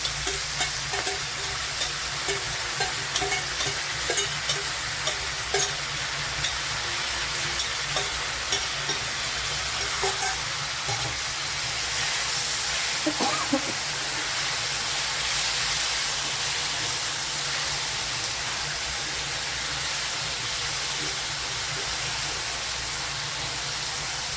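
Leafy greens poured into a pan of cooked onions fry with a steady, loud sizzle and hiss, with occasional stirring scrapes, continuing without any voices throughout.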